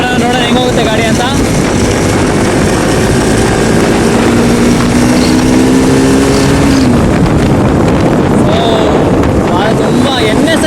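A Bajaj Pulsar NS 200 BS4 naked sports motorcycle accelerating in third gear, its engine note climbing steadily then dropping, loud and close under heavy wind rush, with no talk heard.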